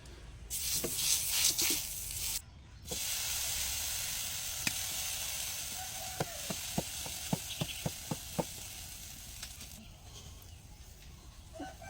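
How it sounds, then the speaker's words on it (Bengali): Oil heats in a wok on a stove for frying jhikimiki pitha, giving a soft continuous hiss with a run of sharp crackling pops in the middle, close and moderately quiet. "এখন কড়াইটা গরম হবে আর কড়াইতে অল্প করে তেল দিব।"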